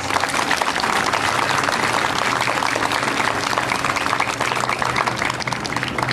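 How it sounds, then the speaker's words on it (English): Steady, dense applause from a crowd cheering children who painted fire hydrants, continuous and fairly even for several seconds with no talking. "let's all give a round of applause to these kids"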